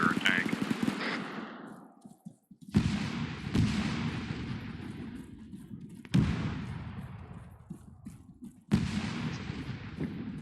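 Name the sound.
cannon and gunfire, from a military video game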